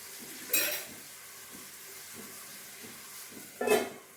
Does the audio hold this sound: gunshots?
no